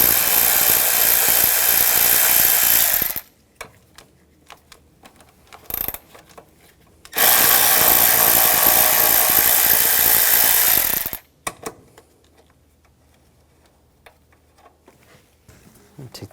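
A ratchet with a 10mm socket works nuts loose on a 2009-2013 BMW 328i xDrive 3.0L I6 during starter replacement, giving two long loud buzzing runs of a few seconds each, with brief clicks and quiet gaps between.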